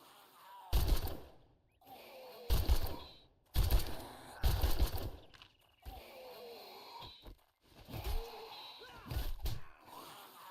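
The player's gun in the survival game 7 Days to Die fires about six loud, spaced single shots, each a sharp close crack with a short tail, separated by quieter gaps.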